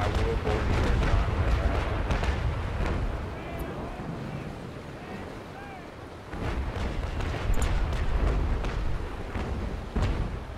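In the sailing-warship game Naval Action, ship cannons fire in battle, a dense rolling boom and rumble over wind noise, with voices talking throughout.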